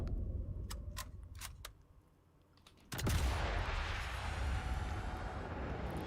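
Rifle fire in the video game Sniper Elite: Resistance: a few sharp, separate cracks come first, then a loud blast bursts in and leaves a long, heavy rumble that fills the rest.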